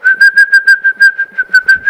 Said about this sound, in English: 24/7, she is whistling all the time